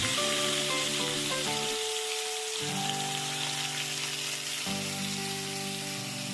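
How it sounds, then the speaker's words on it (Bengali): Fish slipped gently into hot oil in a home kitchen for mustard fish curry, a continuous close sizzle with rain-like crackle over a steady hum, louder bursts as pieces go in. "এবার মাছগুলোকে তেলের মধ্যে আস্তে আস্তে ছেড়ে নেব।"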